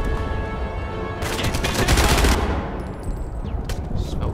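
Rapid automatic gunfire from a low-caliber weapon in the video game Enemy Front, a loud dense burst of shots lasting about a second, with scattered game sounds around it.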